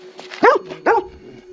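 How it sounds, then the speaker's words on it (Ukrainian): A dog gives two short, close barks about half a second apart, with a faint steady tone in the background. "ти хороший собака"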